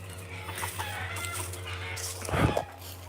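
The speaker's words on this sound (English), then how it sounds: "Chickens are pissing me off." Chickens cluck in the background of an outdoor setting, with soft scattered clucks and a louder, closer burst of clucking near the end, no talking.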